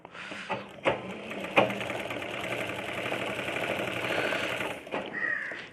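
A sewing machine stitches the hem of a folded lungi, running in a steady mechanical whir punctuated by a few sharp knocks at the start and brief pauses near the end, close and clear.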